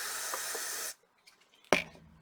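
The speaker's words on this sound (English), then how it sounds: "So I'm just going to spray" A short burst of aerosol spray onto a cloth hisses steadily for about a second, then stops, followed by a faint rustle and a soft thud.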